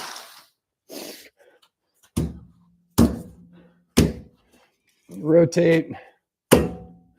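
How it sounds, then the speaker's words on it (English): Hammer blows on a wrench fitted to a truck lug nut on a Ram 2500: about five loud, sharp metallic thunks spaced roughly a second apart, each with a short ring, alternating with a man's brief speech. "So when I hammer on this, it's actually going to get stuck on this lug nut."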